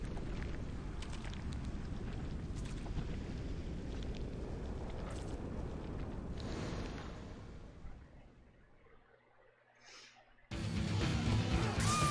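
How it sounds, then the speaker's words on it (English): A large in-game explosion from the video game Deadly Premonition: a sustained, loud roaring rumble that gradually fades and thins, followed by a sudden loud burst of noisy sound near the end. "Of course, he does not look at the explosion."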